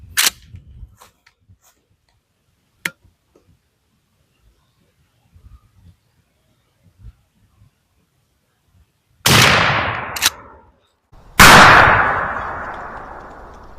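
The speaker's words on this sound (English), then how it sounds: "So we're set up to shoot the Federal Powershoks from 30 yards at our 12 inch bullseye." A 12 gauge shotgun fires Federal Powershok #00 buckshot at an outdoor range, two loud, sharp blasts about two seconds apart near the end, each with a ringing decay, after quiet stretches of small clicks and handling noises.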